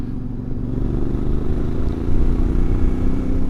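A CFMOTO MT450 motorcycle cruises in sixth gear at low speed, its engine giving a steady, low-pitched pulsing drone with slight swells, close and loud, mixed with road and wind noise and no speech.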